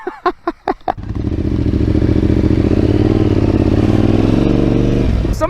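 A Yamaha Tenere 700 motorcycle pulls away after a few sharp knocks and clatters, its engine settling into a loud, close, steady drone as it rides on.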